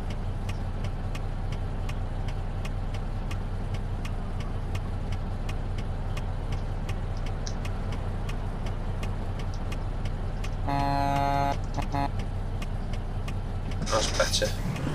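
A truck idles in stop-and-go traffic in American Truck Simulator, a steady low engine drone running throughout with faint clicks, while someone talks over it.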